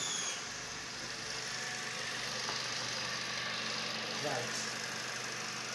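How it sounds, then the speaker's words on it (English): A car engine idles steadily at low volume during a fuel injector test, with a continuous even hum throughout and a brief spoken word. "The car now is idling"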